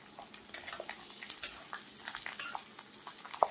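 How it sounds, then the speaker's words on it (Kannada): Fresh ginger and garlic frying in oil in a home kitchen, a soft steady sizzle with a few small crackles and spatters, quiet and close. "ಈಗ ನೋಡ್ರಿ, ಹಸಿ ಶುಂಠಿ ಮತ್ತು ಬೆಳ್ಳುಳ್ಳಿನ ಫ್ರೈ ಮಾಡ್ಕೊಳ್ತೀನಿ ರೀ"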